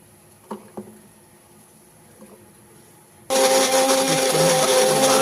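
After a few soft knocks, a mixer jar roars into a loud, steady grind of rice flour with green chili and ginger, continuing to the end.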